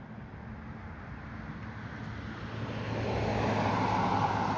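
Road traffic along an American highway, heard from the sidewalk beside it. A steady broadband roar is mixed with wind buffeting on the microphone and swells louder toward the end as vehicles pass close by. No one speaks.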